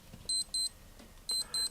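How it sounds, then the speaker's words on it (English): A Citizen 300M Shock-Resist P130 digital watch from 1985 sounds its alarm 2 tone: four short, bright electronic beeps in two pairs, alone against faint background hiss. "whereas the alarm 2 has a different tone"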